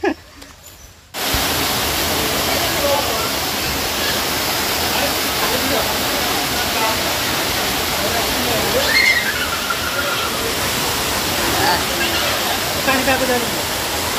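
Rushing waterfall water in Goa, a steady loud roar that fills the whole clip after an abrupt start, with voices faintly heard over it.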